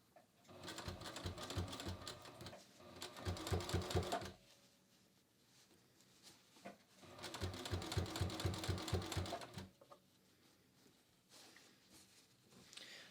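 Sewing machine stitching binding onto a fabric pocket, two runs of fast rhythmic mechanical stitching separated by quiet pauses, close and distinct with no talking.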